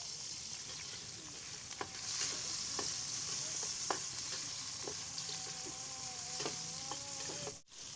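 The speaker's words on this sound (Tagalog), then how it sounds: "Magluto na po tayo ng adobong pusit or cuttlefish pala." Cuttlefish adobo stirred in a hot pan, a steady close sizzle with scattered scraping knocks of a utensil against the pan and a brief dip near the end.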